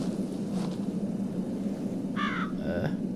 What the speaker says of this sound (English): The crow's gone.